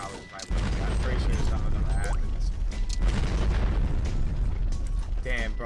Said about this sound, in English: there's fucking explosion after explosion